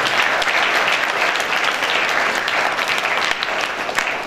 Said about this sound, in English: huge round of applause for that definition